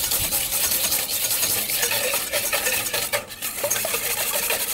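Eggs being mixed thoroughly in a bowl for a chocolate truffle cake, continuous rapid scraping and clinking of a utensil against the bowl, steady and close.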